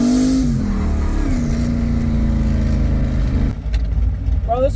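A drift car's engine revs loud and close at a drift event, holding a high buzzing pitch before dropping off sharply near the end, with other engine noise around it.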